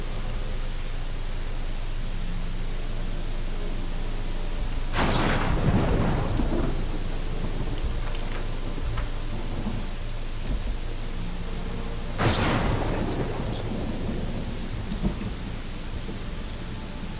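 Steady heavy rain hisses throughout a stormy scene in the video game Pathfinder: Wrath of the Righteous, with two loud thunder cracks that each boom and roll away, several seconds apart.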